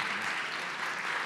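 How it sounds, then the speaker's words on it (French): An audience at a French history talk claps in a steady, moderately loud wash of applause that continues throughout without voices. "on va vous applaudir pour cette première partie."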